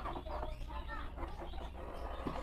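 Backyard frizzle chickens, a grey hen and a red rooster, clucking and murmuring close by in a steady, busy stream of soft calls.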